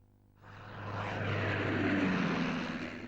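A WWI British fighter biplane with a rotary engine flies past, its propeller drone swelling from quiet to a loud, sustained roar that holds steady near the end.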